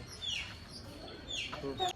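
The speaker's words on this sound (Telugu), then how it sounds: "నా ఈ పుంజు గురించి చెప్పండి" A rooster kept as a pet clucks in a few short bursts close by, faint and intermittent against a quiet background with a hint of a voice.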